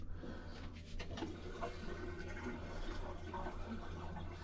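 A household toilet with a plugged drain flushes weakly, giving a steady low rushing and gurgling of water throughout, fairly faint and unbroken.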